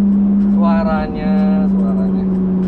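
A race car revving at 9,000 rpm in a garage in Surabaya, a loud steady droning note with a rising harmonic snarl in the middle, while people talk.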